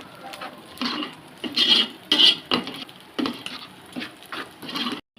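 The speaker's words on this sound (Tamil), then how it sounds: "நல்லா கிளறி விட்டுக்கலாம்." A spoon scrapes and stirs garlic and fennel paste in a pan while fish curry is being made, a series of close rasping strokes in uneven bursts with short pauses between them.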